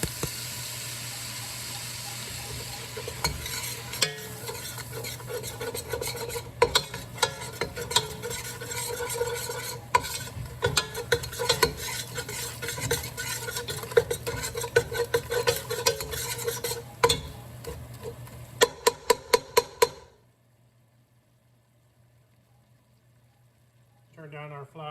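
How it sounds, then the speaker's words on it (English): Flour is stirred into melted butter in a pot to make a roux for shrimp étouffée, with steady scraping and a light sizzle close by, ending in near silence after about twenty seconds. "we'll continue to stir until the roux, about 5 to 7 minutes"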